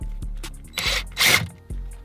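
A power drill with an adapter backs out the steering wheel screws on a Dodge Charger Scat Pack during a carbon fiber LED wheel swap, heard as two short loud whirring bursts with mechanical clicks and clatter between them, no talk.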